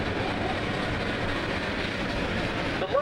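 A train rolls along the rails in a steady, continuous rumble with a faint squeal near the end, heard close from on board a passenger car.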